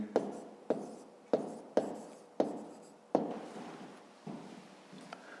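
A pen writes an answer on paper in a quiet room, making a series of about eight short, distinct strokes and taps at a fairly regular pace, each fading quickly.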